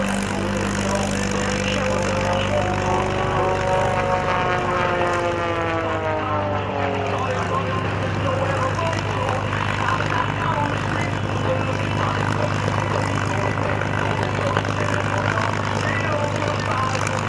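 A P-51 Mustang propeller plane makes a low pass at an airshow in Millville, its engine drone rising and falling in pitch as it goes by, under steady crowd and PA noise, with a voice briefly heard.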